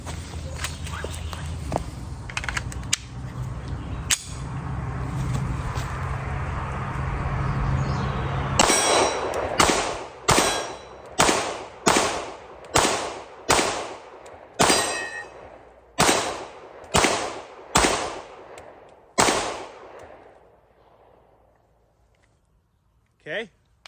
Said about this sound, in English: So I figured I would switch ammo and try. So let's see if we can run some through this.